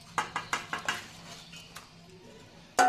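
Tangra fish and chopped coriander go into a pot of boiling curry: five or six sharp, close utensil clinks against the pot in a quick run, then a soft steady simmer and a final louder clatter.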